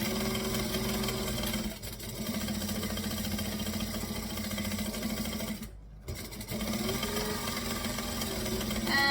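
Sewing machine back stitching a bag project, a continuous moderate motor drone close by with a couple of brief dips where the stitching pauses, no talk.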